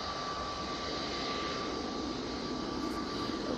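An EasyJet airliner at Manchester Airport drones steadily at a distance, a broad continuous engine roar holding even throughout with no talk over it.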